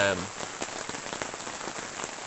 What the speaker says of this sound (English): It's absolutely lashing rain at the moment